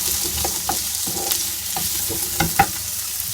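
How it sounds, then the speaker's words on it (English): Ham, ginger and melon stir-fry in a hot pan, giving a loud, constant sizzle with scattered scrapes and clicks from stirring throughout. "Saute that about."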